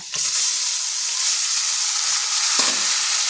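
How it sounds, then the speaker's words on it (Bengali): Mashed masoor dal hits hot oil seasoned with garlic, nigella seeds and dried chillies, producing a loud, dense, steady sizzle with a couple of stirring knocks. "এরপর দিয়ে দিচ্ছি ডালটা"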